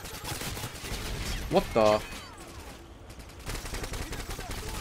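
A Scar-H rifle fires in Call of Duty: Modern Warfare 2 multiplayer as a short, loud burst of rapid gunfire. A man's brief startled exclamation is heard over the burst, and quieter game noise continues afterward.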